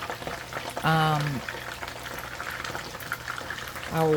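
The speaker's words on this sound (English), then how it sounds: "So because they're twice fried, we are going to do the first fry." Plantain slices for tostones sizzle and bubble in hot oil on their first fry, a steady crackling hiss broken by two short bursts of a voice.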